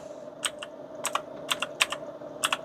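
Fingers typing on a computer keyboard while entering a search, a handful of crisp, irregular key clicks in short bursts, close and fairly quiet against a soft background hum.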